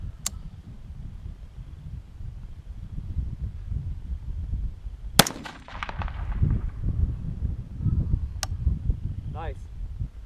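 Rifle shots from a Faxon heavy fluted barrel fired outdoors at a 100-yard range in a light breeze: three sharp, separate cracks, the middle one loudest with a short ringing tail, over a low wind rumble.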